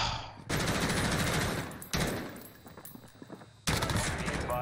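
Call of Duty Modern Warfare multiplayer gunfire from the 725 shotgun: loud, dense bursts of shots in three blocks separated by brief drops, close and dominant with no speech.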